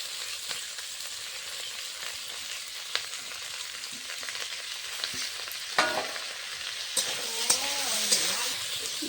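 Prawns sizzle and fry in a pan while being stirred for a Bengali potato prawn chop, giving a steady close hiss broken by a few scraping stirs toward the end.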